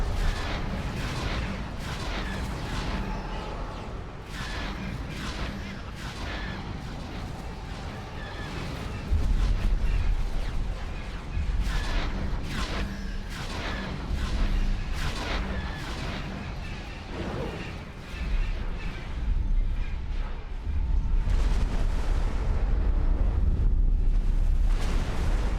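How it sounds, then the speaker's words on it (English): Ion cannon fire pounds ships during a space battle in Star Wars Interworlds, a continuous barrage of heavy booming impacts and rumbling blasts that grows louder and denser toward the end. "they all have ion cannons, so we got hit by the big guns there"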